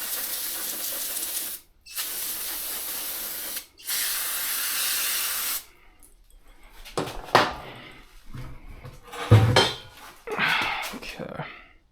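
Three bursts of aerosol spray hiss loudly in short blasts, cleaning gunk off a part from a Wolfe Ridge 28C, followed by metallic clinks and handling of parts.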